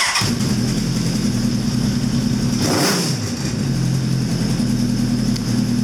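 A 1983 Honda CB1000 Custom motorcycle engine running steadily at a loud, close idle, with a brief rev swell near the middle before it settles back to a low, even rumble.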